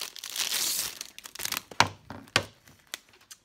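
Diamond painting kit box being opened up close, a burst of plastic packaging crinkling followed by several sharp crackles and taps as the wrapping is handled, fairly quiet.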